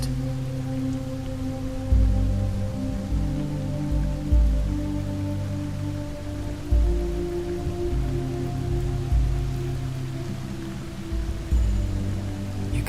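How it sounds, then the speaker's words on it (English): Steady heavy rain pours down, a constant wash of drops drumming on a surface with occasional louder gusts, no voices. "watching the rain pour down outside it"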